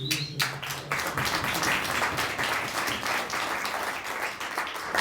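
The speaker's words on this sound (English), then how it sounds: "A round of applause for a national leader" Sustained applause from a crowd at a concrete 3D printing industry event in Seattle, dense steady clapping that fills the whole stretch, loud and continuous.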